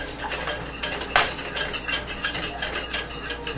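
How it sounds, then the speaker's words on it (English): A whisk stirs chili colorado sauce in a pot, making a steady run of quick metallic scrapes and clinks against the pot, fairly close and continuous with no talking. "go on stirring with the whisk. Don't ever stop. Make sure you get it good and mixed in."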